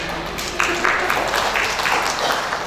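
Wedding reception guests clapping in a fairly even patter, moderately loud and continuous, with the room's ambience around it.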